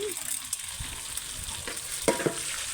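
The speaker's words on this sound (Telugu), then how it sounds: "ఇవన్నీ కొంచెం ఫ్రై అయ్యేదాకా ఫ్రై చేసుకొని తీసి పక్కన పెట్టుకొని" Green chilies and chana dal fry in hot oil for a Telugu ivy gourd chutney, giving a soft, steady sizzle with a few light stirring clinks.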